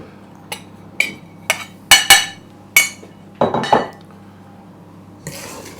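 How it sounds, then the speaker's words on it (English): Fruited tea cake batter with self-raising flour worked in a bowl, heard as a series of sharp clinks and knocks of a utensil against the bowl at irregular intervals, close and fairly loud, with a softer scraping stretch. "Now mix in your flour."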